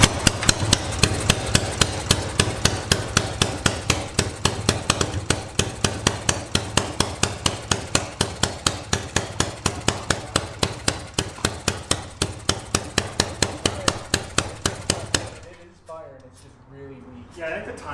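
A Yamaha XS650 motorcycle engine, first start in 25 years with timing off, firing weakly in rapid regular pulses for about fifteen seconds before dying, then voices speaking.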